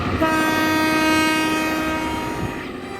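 A train on the Bangkok–Ubon Ratchathani railway passes through rural farmland in Chakkarat district, Korat, with a steady rumbling roll under a sustained horn tone that carries near and loud throughout before easing slightly at the end.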